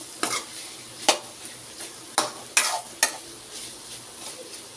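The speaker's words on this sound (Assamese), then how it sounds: "এতিয়া মই ঢাকন নমৰাকৈ অকণমান 5 মিনিটমানৰ কাৰণে ভাজিখন অকণমান সিজিবলৈ দিম" Papaya and soybean curry frying in a pan, with a soft continuous sizzle broken by about half a dozen sharp scraping stirs of a spoon against the pan.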